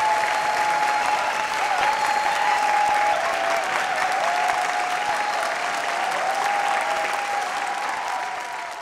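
Dense, sustained applause from an audience on the Sur Sangram 2 singing-competition stage, welcoming a singer back, with a faint held musical tone running beneath the clapping as it slowly tapers off.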